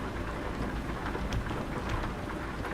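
Steady, dense rain falls around a truck in American Truck Simulator, a continuous hiss with low rumbling underneath, filling the scene evenly without any voices.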